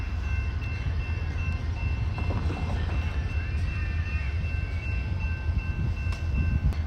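At the Ardmore station in Oklahoma, a passing train gives a constant deep rumble with faint metallic squeals and thin tonal lines, steady and somewhat distant, with no voices.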